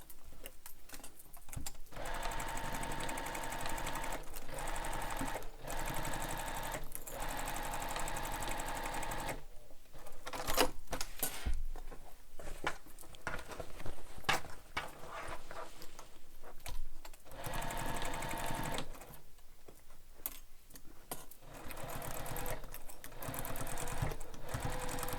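A sewing machine stitches a seam on a messenger bag in fast rattling runs, broken by several short pauses, close and steady without talk.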